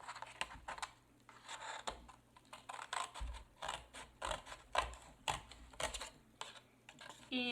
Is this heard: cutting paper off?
yes